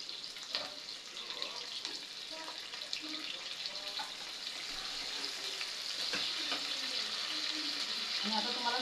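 Onion and curry leaves sizzle steadily in a hot pan with a bright continuous crackle, broken by occasional soft stirring knocks.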